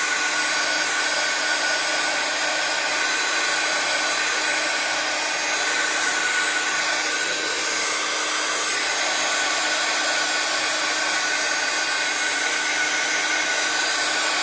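A hair dryer blows steadily and loudly the whole time, drying red vellum paper during a papercraft session, with no pauses or voices over the constant whoosh.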